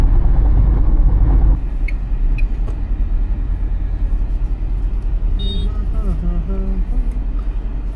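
A car speeds along a highway with a steady engine and road rumble heard from inside, loudest at first and then easing slightly, while a voice speaks briefly over it later.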